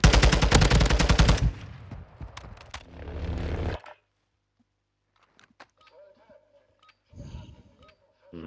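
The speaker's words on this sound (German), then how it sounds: "Shotgun, ja, und da braucht man immer 5 Schüsse" Gunfire in the video game Warzone 2, a rapid loud automatic burst followed by scattered shots and a couple of heavy blasts, separated by near silence.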